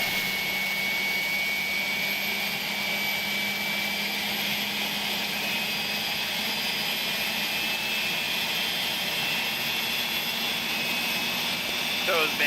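The jet engine of an Airbus A300F freighter spools up in the X-Plane 11 flight simulator, a loud, sustained roar topped by a high whine that climbs slowly in pitch and holds steady throughout.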